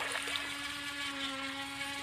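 A JJ RC boat motor runs steadily on the ocean, a continuous high-pitched whine with a sustained tone held at even loudness throughout, with no talk over it.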